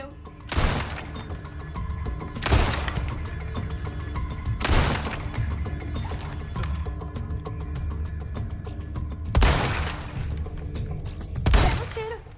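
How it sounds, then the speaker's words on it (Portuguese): Submachine gun fire at the shooting range in Resident Evil 4 Remake, a continuous rattling clatter punctuated by several loud bursts and impacts, with game music and effects running throughout. "Use uma submetralhadora."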